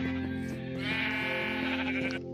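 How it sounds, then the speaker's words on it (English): Sheep bleating on a Minecraft server, where a pen crowded with sheep gives off several overlapping, loud game bleats in quick succession, close by and with no speech. "Because now I have all the sheep right here."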